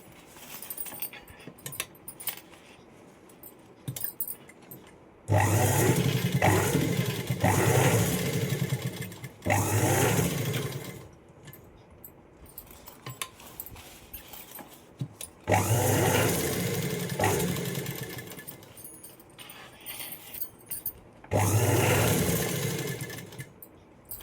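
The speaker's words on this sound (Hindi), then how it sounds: "अब चारों तरफ अच्छे से दाब सिलाई लगा देंगे पहले" A sewing machine runs in bursts as it stitches edge seams around a piece of fabric. Four loud whirring runs of a few seconds each are separated by quieter pauses with faint handling clicks.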